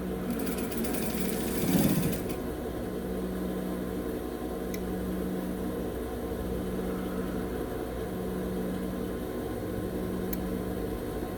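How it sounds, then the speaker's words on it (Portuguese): A sewing machine with its presser foot holding fabric layers together while stitching a simple drawstring bag, giving a continuous close mechanical whir with a faint rhythmic hum throughout and a brief louder rustle near the start. "você vem aqui na máquina... Pezinho de máquina e prende todo mundo junto aqui."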